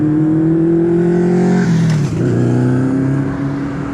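A motorcycle engine drones loudly and steadily on a city street, its pitch shifting as it passes close by, with no talking.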